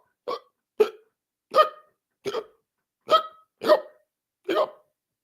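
A voice imitates hiccups, about eight short, abrupt gulping bursts spaced evenly apart, loud and close with silence between.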